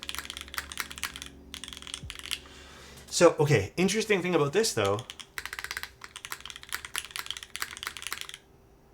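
Typing on a Keycult Zero mechanical keyboard: rapid, crisp keystroke clatter in bursts, close and clear, pausing while someone talks in the middle.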